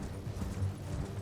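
Horse hooves clip-clop in the Elden Ring video game, a steady low-pitched patter of footfalls at moderate loudness across a brief stretch, with no speech.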